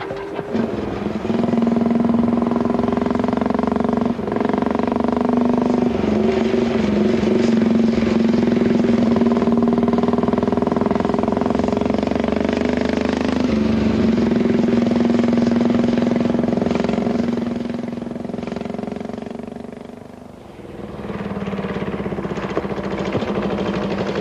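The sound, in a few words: vintage motorcycle riding along bumpy back roads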